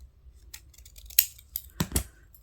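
Scissors snip through the folded edge of a paper junk journal wallet, a few crisp, close cuts with short pauses between them in an otherwise quiet room.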